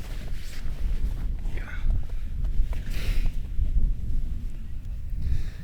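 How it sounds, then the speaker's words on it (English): Cold wind gusts steadily across an open fell in the Lake District, roaring and buffeting close against the microphone throughout with no one speaking. "it's so cold and the wind is coming this way"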